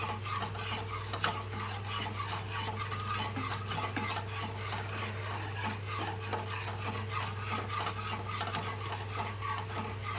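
Red Indian gooseberry moru curry with coriander leaves being stirred in a pot: a soft, continuous scraping and swishing that runs steadily over a constant low hum, with no talking.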